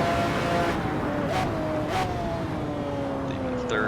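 McLaren F1 GTR racing car engine in Assetto Corsa pulling hard out of a third-gear corner, a loud sustained drone with pitch climbing steadily across the run.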